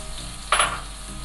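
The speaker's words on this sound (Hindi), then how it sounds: "ये दाल के लिए तड़का तैयार हो रहा है" Onions hit hot oil for a moong dal tadka, giving a sudden loud sizzle that flares up and then settles into a softer, fading fry.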